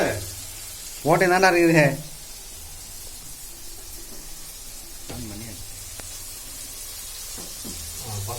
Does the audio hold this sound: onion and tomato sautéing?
yes